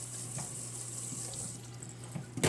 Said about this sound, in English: You can turn the water back on, rinse it off a little bit